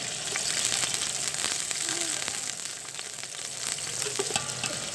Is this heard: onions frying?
yes